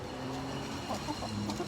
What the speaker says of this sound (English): Hens that normally eat out of your hand